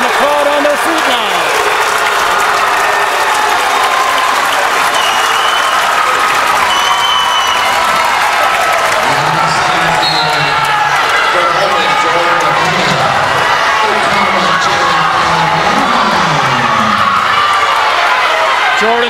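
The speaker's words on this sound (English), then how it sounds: "And the crowd on their feet now." A packed gym crowd at a high school wrestling dual roars and claps continuously, loud and steady, with a commentator talking over the cheering throughout.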